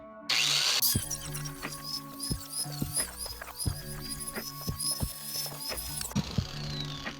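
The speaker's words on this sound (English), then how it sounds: "I'm going to go ahead and grind this." An angle grinder working over a welded scrap-metal blacksmithing jig: a steady, loud high whine running throughout, broken by repeated sharp knocks and dips as the disc bites and shifts on the metal, with no talk.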